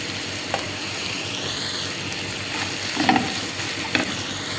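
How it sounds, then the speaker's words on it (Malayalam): Chicken and ingredients for a cheesy chicken pasta sautéing in a pan, a steady soft sizzle with a few sharp clinks of a spoon stirring against the pan; no talking. "നല്ലോണം ഒന്ന് വശക്കുക."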